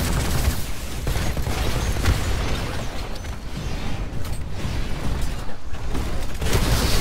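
Rocket blasts and gunfire in Titanfall roar on without a break, a loud, dense barrage of booms and rattling shots with heavy low rumble and no letup over the whole stretch.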